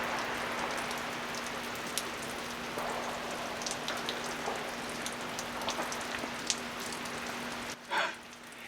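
Steady heavy rain pours down continuously during an ice storm at an off-grid cabin, a dense hiss with scattered drips and patters, plus a brief louder splash near the end.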